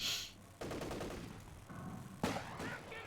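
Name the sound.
sniper gunfire in the video game Company of Heroes 2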